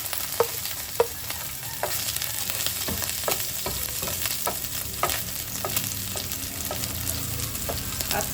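Garlic sautés in a hot pan with a steady close sizzle, punctuated by regular light scrapes and taps of a spatula, no voices.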